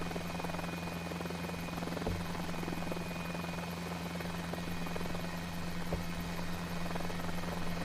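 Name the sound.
miniaturized single-seat MD-500 helicopter flying in a video game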